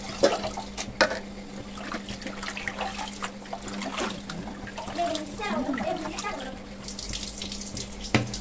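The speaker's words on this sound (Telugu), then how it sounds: "మళ్ళీ రెండోసారి కడుగుతున్నాను" Tap water runs and splashes in a sink while something is scrubbed and rinsed during cleaning of pala pari kalu, with sloshing, trickles and occasional knocks, close by and steady.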